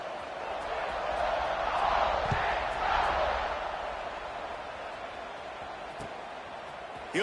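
A distant stadium crowd in an NCAA college football video game swells into a broad, sustained roar that peaks and slowly fades, with a few sharp thuds.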